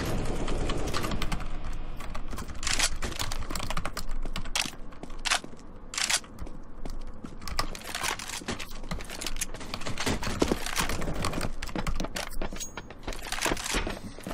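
Rapid, continuous clatter of typing on a small micro computer keyboard during an online shooter match, dense close key clicks with occasional heavier strokes, no talking.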